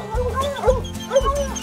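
Hunting dogs baying and yipping on a bobcat's trail, a couple of drawn-out, wavering howls close by, with whimpery overtones and a low background rumble.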